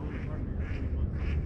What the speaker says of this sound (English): this is so beautiful with the geese or the ducks flying